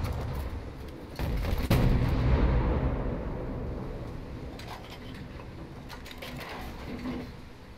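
An 88mm naval gun fires in War Thunder, a heavy booming report around a second and a half in, followed by a long rumbling decay with faint mechanical clatter.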